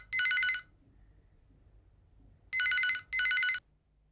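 A telephone rings in loud electronic bursts: one short ring, a pause, then two rings close together. No one speaks over it.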